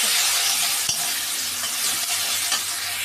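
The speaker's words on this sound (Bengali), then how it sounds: "মশলা কষা আমার চলছে এই মুহূর্তে" Masala and tomatoes for chana paneer fry loudly in a pan, a dense continuous sizzle with occasional scraping knocks from stirring.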